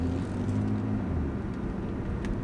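A BMW M3 F81 Touring wagon with its aftermarket exhaust in quiet mode hums low and smooth while driving, a soft steady exhaust drone with faint road noise and no speech.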